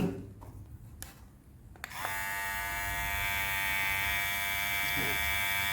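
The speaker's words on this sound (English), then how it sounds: "It is a rechargeable hair trimmer." Geemy GM1063 rechargeable hair trimmer switching on after a few handling clicks and taps, then running with a steady, close, high-pitched electric buzz.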